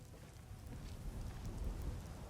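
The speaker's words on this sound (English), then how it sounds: "At least the rain provides some cover." Steady rain falls in the fantasy video game Skyrim, a faint, even hiss of drops over a soft low rumble, with no voices.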